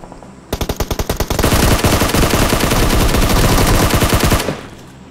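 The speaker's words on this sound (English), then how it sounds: "Don't think about the people shooting to the left." Loud close machine-gun fire in the mobile game PUBG Mobile: a short burst of distinct shots, then a sustained dense rattle of automatic fire lasting about three seconds before it stops.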